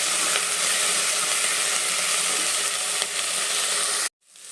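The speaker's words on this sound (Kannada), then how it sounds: "ಚೆನ್ನಾಗಿ ಈಗ ಡೀಪ್ ಫ್ರೈ ಆಗಿದೆ ನೋಡಿ." Ingredients for methi bath fry in hot oil in a pan, a steady loud sizzle with light stirring scrapes, ending abruptly near the close.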